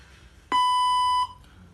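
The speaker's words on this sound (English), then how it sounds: "please speak in English after the beep" A single clear electronic beep from a robotic language translator, a steady tone lasting under a second against quiet background.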